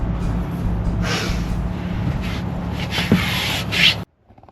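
Wood floor trim being sanded gives a steady, loud rasping rub with rhythmic strokes, then stops abruptly into near silence.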